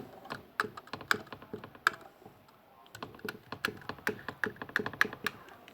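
Close-up typing on a computer keyboard, quick irregular key clicks in bursts with a brief pause midway.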